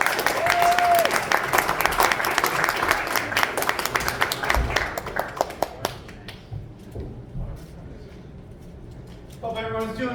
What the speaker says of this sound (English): Please put your hands together for Tommy J. Warren.